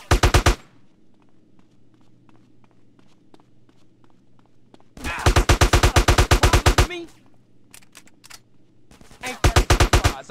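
Automatic gunfire in GTA San Andreas: three loud, rapid-fire bursts at the start, middle and end, with soft footsteps and quiet ambience in the gaps between.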